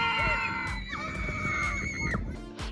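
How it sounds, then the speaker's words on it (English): Children scream shrilly on a film set, with several high sustained screams and wails overlapping continuously over a busy background. "A lot of them were recorded on set, so all the screaming of the children."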